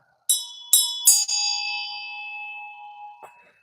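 Small metal bells strike several times in quick succession, bright clear dings that ring out and decay slowly, with a final softer strike near the end, close and loud with no talking.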